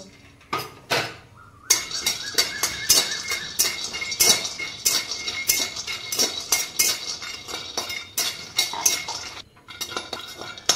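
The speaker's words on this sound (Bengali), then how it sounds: "আমি প্রথমে এই বাদামগুলো একটু শুকনো কড়াইয়ে হালকা করে ভেজে নেব" Peanuts rattle and clatter steadily against a dry wok as they are stirred and tossed, a busy scraping patter with no voices.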